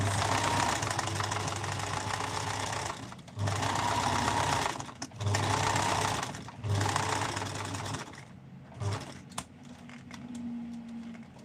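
A sewing machine top stitches a bag in steady running bursts of about two to three seconds, separated by brief pauses, before stopping near the end, close and loud.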